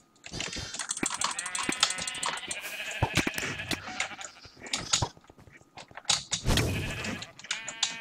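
Sheep bleating in Minecraft during a Sheep Quest minigame, several loud wavering bleats close by, scattered across the stretch with clicking keyboard taps and other game noises between them.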